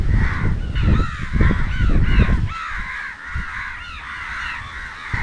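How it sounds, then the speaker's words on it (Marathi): Several crows caw loudly and repeatedly in overlapping harsh calls from trees near the Kasheli beach shore on the Konkan coast, over a low rumble of wind or surf that fades partway through. "कावडे बहुतच बोंबलत आहे रे भाऊ"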